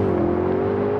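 A BMW M5 F90 and a Mercedes E63s AMG accelerate side by side in a rolling drag race, their engines a loud, steady, droning roar with a slowly shifting pitch.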